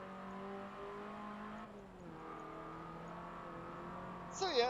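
A Honda race car engine in Forza Motorsport 7 drones in a steady high whine, dips briefly as gears change, then climbs again before a sharp burst at the end.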